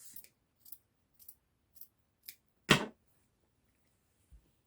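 Scissors snip through the fabric end of a strip of bias binding: a run of short, crisp cuts at a steady pace, the last one louder and longer, close and alone in a quiet room.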